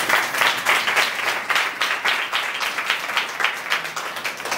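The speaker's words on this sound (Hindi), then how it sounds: "गोटे करताली दियो" A church congregation clapping together during a sermon, a dense rhythmic round of applause that carries on steadily throughout.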